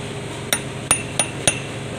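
Four sharp metallic hammer blows at an uneven pace ring out while repairing the PTO shaft of an Isuzu boom truck, each strike loud and close over a steady low background hum.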